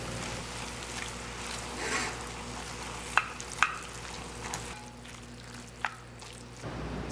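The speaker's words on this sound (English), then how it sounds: "we have the minced chicken or the minced meat cooking" Minced chicken with peas and tomato paste cooks in a pan with a soft steady sizzle, and a few sharp clinks of a utensil against the pan stand out over the low frying hiss.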